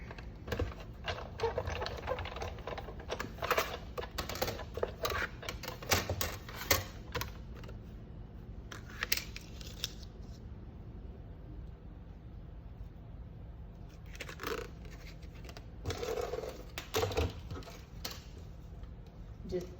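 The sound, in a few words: die cutting machine cutting gold cardstock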